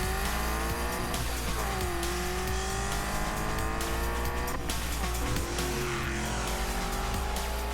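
An Aston Martin DBS sports car drives at high speed, its engine roaring loud and continuous with pitch sweeping up and down through gear changes, and tyres squealing faintly underneath.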